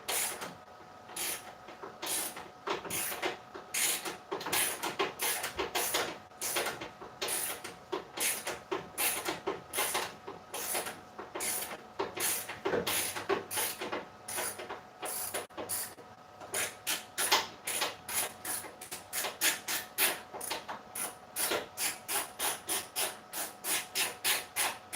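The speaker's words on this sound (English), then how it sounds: "So I've got these swivel head wrenches or ratchets." A swivel head ratchet wrench works on a Jeep in a garage, giving a long run of close, sharp clicks in quick rhythmic strokes that speed up toward the end, with no talking.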